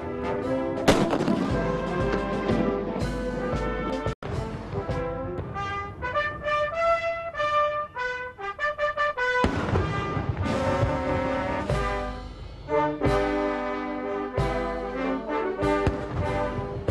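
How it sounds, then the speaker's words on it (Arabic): Deep booms of a 21-gun artillery salute go off at intervals over a military band playing the Palestinian and Chinese national anthems, each blast loud and echoing through the music. "وأطلقت المدفعية 21 طلقة"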